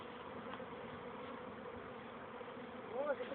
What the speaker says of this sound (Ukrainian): Бджоли не тікають, бджоли жалять.